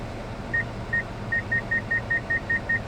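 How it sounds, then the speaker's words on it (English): Parking proximity sensor in a 2011 Kia Sorento Limited beeping as it reverses toward bushes, a clear high-pitched tone repeating faster and faster over a low engine hum inside the cabin. "See, it's telling me I'm getting close to these bushes. You can hear that beeping."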